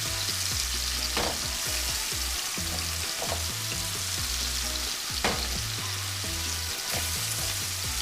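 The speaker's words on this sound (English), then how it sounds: "We're just going to sear these on all sides for just a couple minutes." Red Lechwe backstrap sears in a hot pan with a steady, loud sizzle and frying crackle. A few brief clanks of utensils sound throughout, and nobody speaks.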